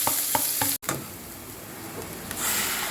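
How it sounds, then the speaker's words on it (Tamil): Onions sautéing with mustard seeds, cumin and fennel in a pan, a dense close sizzle with a few quick spoon knocks at the start, a brief cut, then steady frying noise. "ஜீரகம் சொம்பு போட்டுடலாம் அதுலேயே வெங்காயம் எல்லாமே போட்டு இது வதக்கிடலாம்"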